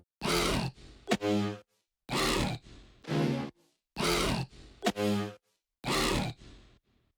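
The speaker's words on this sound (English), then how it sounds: "After the drums he added some growl sounds and brass stabs out of the Shadow sample pack." A loud electronic Future House pattern repeats four times: a gritty, growling bass burst followed by short, punchy brass-like stabs, with silent gaps between phrases.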